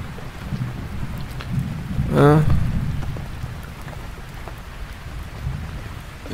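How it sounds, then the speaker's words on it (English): Distant thunder rolls in a low swell beneath steady rain pattering on a camping tent, rising briefly and then fading back into the constant downpour. "Yeah, okay, it's thunder."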